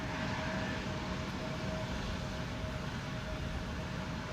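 A KLM airliner on its departure roll from runway 36L, the Polderbaan at Schiphol, makes a steady, broad jet roar with a faint whine running through it. The roar holds evenly throughout, with no voices over it.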